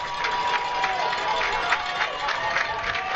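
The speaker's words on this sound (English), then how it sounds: "The stands are rocking underneath us. Luxemburg-Casco crowd right below us." Crowd noise rises from the stands at a high school football game between Denmark and Luxemburg-Casco, a steady roar with cheering and shouts just below, building ahead of a 3rd and 9 play.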